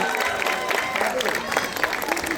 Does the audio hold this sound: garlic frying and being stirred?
no